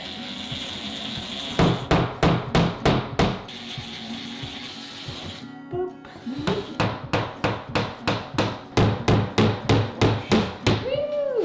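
A power screwdriver drives screws in short repeated bursts while a mirror is fixed to a wall, with a dozen or so sharp whirring pulses in two runs separated by a brief pause, close and fairly loud.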